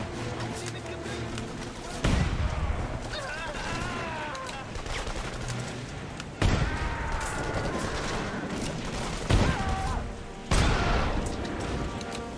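Gunfire in the video game The Saboteur erupts in loud, dense bursts of rapid shots and booms, repeated volleys layered over ongoing game sounds, with a person talking throughout.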